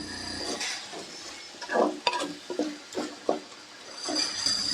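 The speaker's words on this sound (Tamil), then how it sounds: "சின்ன தக்காளியாக ஒரு ரெண்டு தக்காளியை பொடியாக கட் பண்ணி எடுத்து வச்சுருக்கேன் அதையும் இதில் சேர்த்து நல்லா வதக்கிக்கலாம்" Finely chopped tomatoes stirred into a pan with mint and coriander for a Tamil samba rava chicken biryani, giving a soft sizzle under a series of close spoon scrapes and clacks against the pan.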